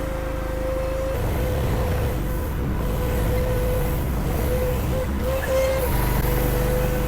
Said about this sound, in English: using a mini skid to move a trailer around is so much easier